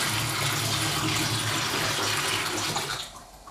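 Rainwater pouring into a flat through cracks in old stone walls where the plaster was stripped off, a steady dense rushing and splashing that stays loud throughout, then trails off at the very end.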